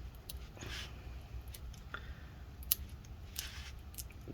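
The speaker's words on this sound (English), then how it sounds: "we're just going to keep trying to peel as much as we can" Adhesive peels off an iPhone 6 battery with soft, faint crackling and sticky tearing, broken by a few sharper snaps over a low, steady background.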